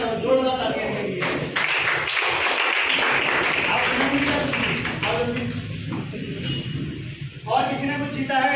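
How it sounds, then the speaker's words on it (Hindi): Loud, sustained applause from a crowd at a bazaar business meeting, greeting prize winners, with a voice talking over the clapping throughout. "जोरदार तालियां के लिए"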